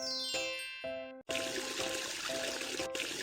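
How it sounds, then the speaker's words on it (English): A cartoon bathroom tap in a children's house-cleaning game gushes steady running water, a bright hiss after a short musical jingle, continuing evenly to the end with a brief dip partway. "Turn off the tap."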